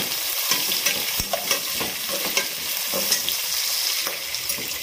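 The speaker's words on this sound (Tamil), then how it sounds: "வெங்காயம் நல்லா வதங்கிட்டு" Large onions sautéing in hot oil for crab pepper masala, a dense continuous sizzle close up with frequent scraping stirs of a spatula in the pan.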